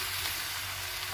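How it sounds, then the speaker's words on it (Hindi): Dal being tempered in hot mustard oil in a kadhai over a village clay stove, giving a steady, dense sizzle that fills the whole moment without pause or talk. "अब हम दाल में तड़का लगा लेते हैं।"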